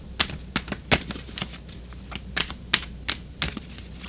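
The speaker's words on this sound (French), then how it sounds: "je continue de brasser les cartes encore un petit peu" Tarot cards being shuffled by hand, a rapid series of crisp riffling snaps and flicks in an irregular rhythm, close and clear with no talking.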